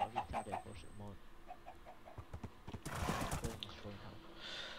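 Horse hooves clip-clop in rapid, even steps in the video game Minecraft Feed The Beast, followed by a brief neigh and a burst of noisy movement, with a voice talking over the middle part.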